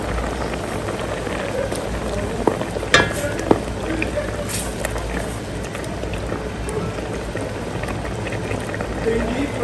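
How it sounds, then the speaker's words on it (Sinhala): Oats simmering in water in a cooking pot, a steady bubbling hiss that runs the whole time with a couple of brief clinks partway through. "මම එකතු කරගත්තු වතුරේ oats එක තැම්බෙන්න දෙනවා"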